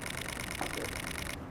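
A rapid, even stream of mechanical clicks from a Nikon D500 shutter firing a continuous burst at 10 frames per second, fairly faint over a steady background hiss, stopping near the end.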